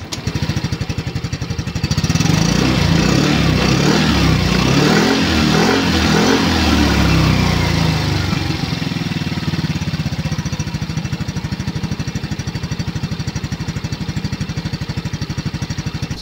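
A Yamaha Mio Gravis V2 scooter engine idles, then revs loudly and roughly for several seconds before settling back to a steady, buzzing idle, close and alone.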